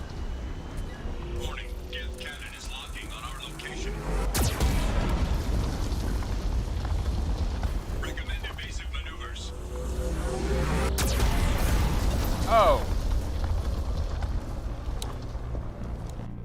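Deep booming Geth cannon blasts in Mass Effect 2 roll out in two heavy waves, each landing with a sharp crack, amid low rumbling and synthetic electronic chatter.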